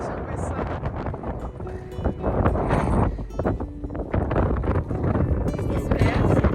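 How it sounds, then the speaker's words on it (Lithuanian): Strong wind buffets the microphone in gusts on a steep, slippery mountain climb in New Zealand, rumbling loudly and continuously with voices faintly present. "Tas vėjas."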